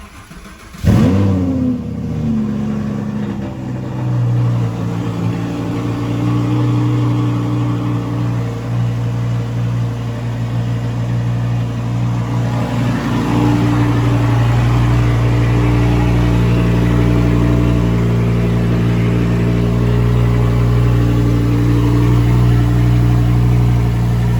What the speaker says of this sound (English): Cold start engine.